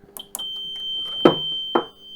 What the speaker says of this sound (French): Donc immédiatement on a une alarme.